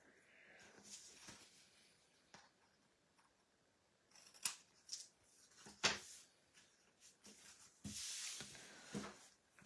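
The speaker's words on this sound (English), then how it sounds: "this is overhanging a bit, so I need to trim this back down" Scissors trim overhanging stamped cardstock on a crafting table: several quiet, crisp snips come in irregular bursts, close by and alone with no talk.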